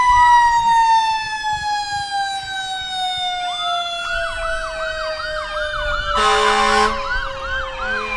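A Brady Township Fire Department engine, Engine 95, sounds its siren in a jubilee parade, a loud, close, continuous wail sweeping down and then yelping, with a short blast of air horn near the end.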